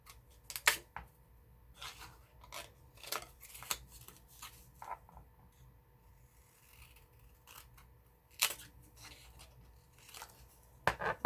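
Scissors trimming a paper greeting card, giving a series of short crisp snips and slicing cuts spaced irregularly across the clip, close and fairly quiet, with no talking.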